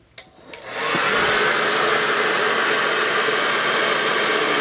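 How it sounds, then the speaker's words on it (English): A blow dryer runs steadily and loudly at close range, drying Polydoh monster teeth, switching on after a brief click and holding a constant rushing whoosh. "I'm going to go back with the blow dryer and I'm going to hit it right on top"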